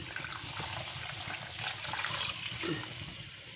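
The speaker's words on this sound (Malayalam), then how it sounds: "ഉള്ള വെള്ളം ഇപ്പം ഇനി ഒഴിച്ചു കൊടുക്കാം." Water pours into a pan of fish-style curry made without fish, giving a steady, soft rushing splash that runs unbroken for a few seconds with no talk.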